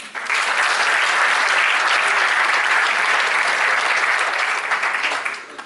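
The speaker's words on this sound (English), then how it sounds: "Give a big round of applause to our MC for tonight" An evening audience claps for the night's MC, a quick burst of dense, even applause that swells in after a brief pause, stays steady and loud, then starts to thin toward the close.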